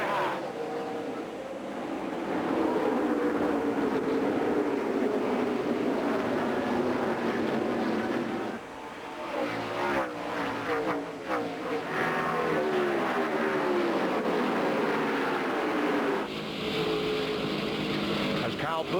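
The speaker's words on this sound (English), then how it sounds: "they're all standing up right now as the field comes off turn 4 for the green flag, and the Kroger 200 is underway" NASCAR race cars taking the green flag at the 2003 Kroger 200, a loud sustained roar of many engines building off the final turn, with an announcer talking over the noise.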